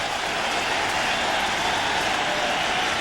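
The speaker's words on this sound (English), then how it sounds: "applauding these Mets who lead 3-1" A stadium baseball crowd at Shea Stadium applauds the Mets during an NLCS playoff game, a dense, steady wash of clapping and crowd noise filling the whole stretch without a break.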